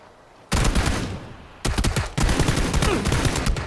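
Rapid bursts of automatic gunfire crack out in PUBG, a loud volley, a brief gap, then two more sustained streams of shots, close and harsh, with no talking.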